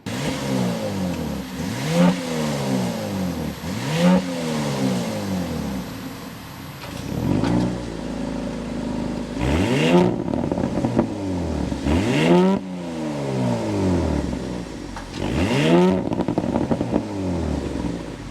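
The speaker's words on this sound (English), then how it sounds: "start it up, so you can hear that exhaust note" A 2025 Audi SQ5's engine revs repeatedly in rising and falling sweeps, a deep exhaust note swelling and dropping, close and loud, with no talking.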